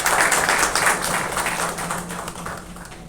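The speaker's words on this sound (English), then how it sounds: "With a big round of applause." Audience applause at a hospital department event, a dense, steady wash of clapping from a room full of people that gradually fades in the final second.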